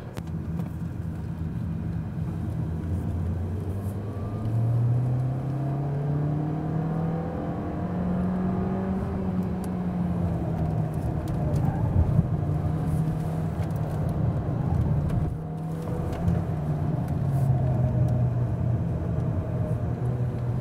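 A steady whirring electric car drive on a race track with a smooth, rising and falling motor whine and road rumble, continuous and fairly close, no talking.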